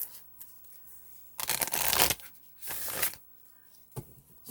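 Tarot cards riffle-shuffled in two loud bursts, with a brief riffle near the end, the gaps quiet and free of talk.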